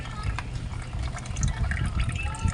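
Floodwater drains out of the gear oil compartment of a Yamaha Mio i 125 scooter after it stalled in a flood, a steady close trickling and splashing that runs the whole time.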